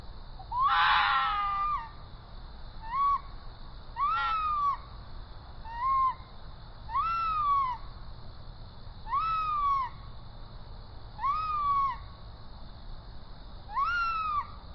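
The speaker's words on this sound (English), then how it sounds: "the cry of the red-tailed fox, which sounds like a woman screaming in the darkness" A series of seven harsh, rising screams repeat at regular intervals, each about a second long, loud against a quiet background.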